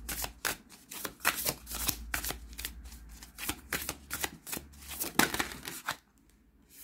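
Tarot cards shuffled by hand in a quiet room, a run of crisp riffling bursts and soft flicks coming in uneven rhythm, close and fairly loud, with no talking.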